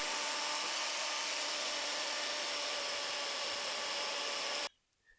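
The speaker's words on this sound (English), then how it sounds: "I'm going to cut the other side with the bandsaw" A bandsaw cuts through metal tube for a beginner tube fabrication welding project, giving a steady, loud grinding whine that runs unbroken for several seconds, then stops abruptly, leaving near silence.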